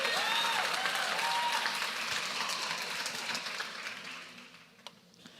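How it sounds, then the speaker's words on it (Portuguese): Congregation applauding in a church, a broad wash of clapping that fills the room and then gradually fades away. "Aplauda aí, só as mulheres ricas aí"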